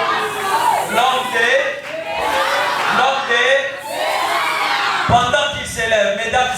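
A large audience applauds and cheers at a live event: loud, sustained crowd noise full of shouts and whoops layered over clapping, swelling and dipping across several seconds.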